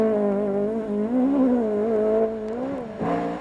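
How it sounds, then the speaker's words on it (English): A Ford Escort Mark II rally car's engine drones steadily with shifting revs, loud and close, rising and easing as it drives past on a 1995 Lakeland Stages Rally stage. "Reggie Britton and Brendan Campbell in their Mark II Escort."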